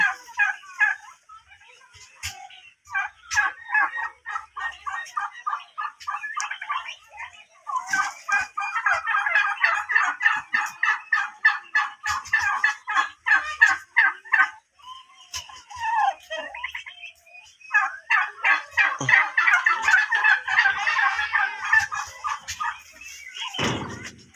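A flock of farm turkeys gobbles in rapid, rattling bursts that repeat again and again, loud and close, with short quiet gaps between calls.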